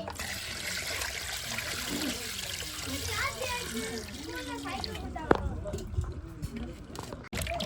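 Water splashes and trickles as fish is rinsed by hand for biryani, a continuous close sloshing with small clatters, while a person talks over it.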